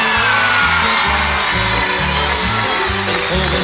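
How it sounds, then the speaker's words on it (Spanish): Loud crowd noise from a concert audience in Córdoba, Argentina, a dense wash of cheering and shouting with a steady rhythmic pulse of music or stomping beneath, continuous and close throughout. "lo vamos a recibir como corresponde el público de Córdoba con un fuerte aplauso"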